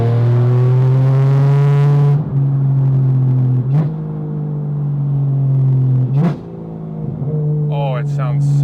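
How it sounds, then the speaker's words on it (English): A loud, deep Porsche 991.1 GT3 RS engine drones steadily with harmonic overtones, punctuated by a few sharp rev blips and gear-change dips, fairly close. "this sounds like an RSR race car"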